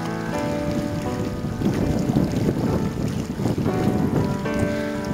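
A breeze blows steadily over the sea cave cliffs of Georgian Bay, a loud, continuous rushing wind buffeting the microphone, with a low rumble of open water beneath.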